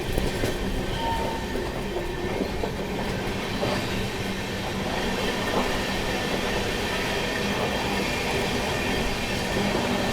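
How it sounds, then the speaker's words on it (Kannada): A train rolls steadily along the rails near Kondapuram, heard from aboard the Pune to Kanyakumari Express, a dense continuous rumble with clattering wheel noise and faint metallic squeals, close and fairly loud throughout. "ಇಲ್ಲಿ ಯಾವುದೋ ಟ್ರೈನ್ ಓವರ್ಟೇಕ್ ಮಾಡತ್ತೀವಿ ನಾವು"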